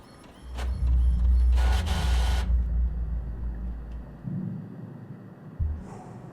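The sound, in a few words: printer printing in the video game The Mortuary Assistant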